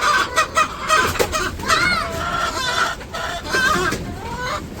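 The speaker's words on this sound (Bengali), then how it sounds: "মুরগিগুলা এত পাজি, দৌড়াদৌড়ি তো করতে থাকে সারাটা দিন।" Hens in a village coop at feeding time cluck and squawk busily and close by, overlapping calls rising and falling without pause, with a few sharper cries mixed in.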